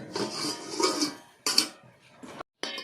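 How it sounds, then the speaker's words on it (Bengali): A metal lid comes off a cooking pot of semai, giving a few close clanks and scraping rattles with short pauses between them, fairly loud and without talk. "আমি ঢাকাটা খুলে নিচ্ছি"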